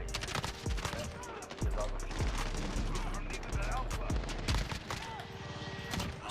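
Kilo 141 assault rifle fire in Modern Warfare multiplayer on a small map, rapid loud bursts of gunshots cracking in quick succession, with a few sharper single reports, over continuous game noise and someone talking.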